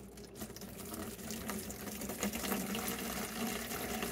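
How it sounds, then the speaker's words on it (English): White vinegar pours steadily into a spray bottle, a continuous close liquid trickle with faint gurgling, heard on its own for a few seconds. "And I'm just going to fill up the bottle."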